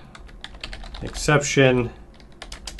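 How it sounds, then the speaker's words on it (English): Steady typing on a computer keyboard, a rapid run of close key clicks that continues under and around a short stretch of talk. "I have to type a whole bunch of stuff"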